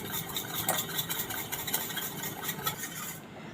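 A spoon whisks dahi (yogurt) in a bowl with quick, steady scraping and clicking strokes that are soft and close. The strokes continue without pause and stop just before the end.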